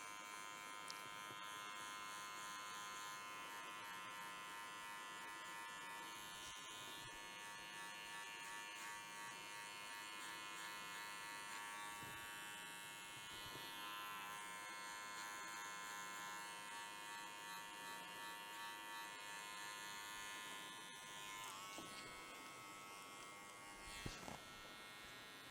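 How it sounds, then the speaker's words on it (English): Electric hair clippers buzz steadily and close up, cutting a taper down the neckline for a bald fade, with a continuous hum that shifts slightly as the blade moves. "cut this hairline all the way down to a nice taper"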